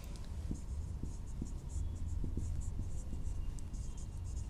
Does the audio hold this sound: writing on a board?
yes